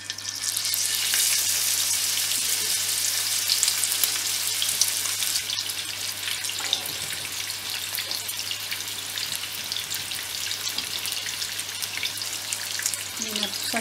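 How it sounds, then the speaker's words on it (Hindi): Seekh kebabs frying in a frying pan give a loud, continuous sizzle and crackle from start to finish, with no talking. "अब मैं ऐसे ही फ्राई पैन में कबीदा को डाल दूंगी।"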